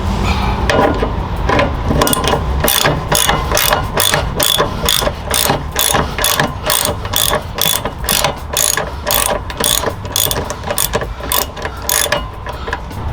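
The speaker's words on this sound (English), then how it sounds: "I'm using a 1/2 inch socket, and yeah, I'm just gonna be taking it off and get it all started" Ratchet fitted with a 1/2 inch socket backs out a body-mount bolt on a 2007-2018 Jeep Wrangler Rubicon JKU, giving steady, loud, rapid pawl clicks in repeated bursts up close, with no talking.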